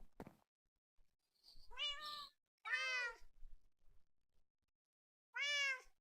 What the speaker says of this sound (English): Pet my kitty cat.